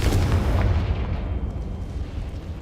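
A Confringo spell explodes in the Hogwarts Legacy video game, a loud, booming blast with a heavy low rumble that fades gradually over a few seconds, with no talk over it.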